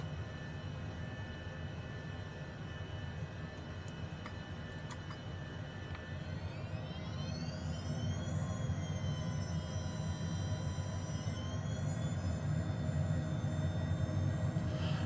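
A HondaJet's jet engines whine steadily while taxiing onto a runway in Microsoft Flight Simulator, with a low rumble beneath a tonal whine that climbs in pitch and holds.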